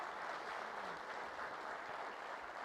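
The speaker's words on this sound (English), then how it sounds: "let's give a big round of applause for our 2 new chiefs" Audience applause at a city's State of the City address honoring two newly appointed chiefs, a steady, even wash of clapping from a large crowd, moderately distant and sustained throughout.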